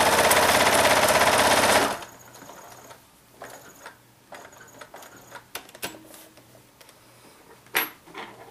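A sewing machine stitches quilt fabric strips together for a miniature rail fence quilt, running loud and steady for about two seconds before stopping, followed by faint scattered clicks and handling sounds.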